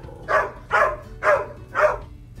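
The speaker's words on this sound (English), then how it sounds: "the dogs barked and she got scared" Dogs barking in four evenly spaced, moderately loud barks, close by, with quiet gaps between them.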